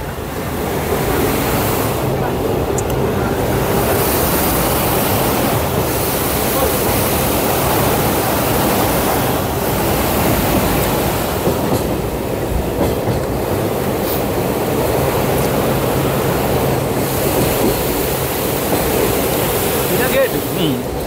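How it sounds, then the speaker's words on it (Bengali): Water roars through the many open gates of the Farakka Barrage, a loud, continuous rushing wash heard from a passing train, mixed with steady rail rumble and faint voices. "ব্যারেজের অনেকগুলো গেট খোলা আছে, জলের আওয়াজ পাওয়া যাচ্ছে বেশ জোরে"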